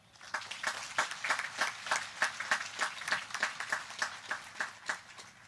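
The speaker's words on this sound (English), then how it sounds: "Please join me in giving them an applause." Graduation ceremony applause from a small group for school staff, a run of distinct, evenly spaced claps that sound somewhat thin and roomy, continuing steadily for several seconds with no talking.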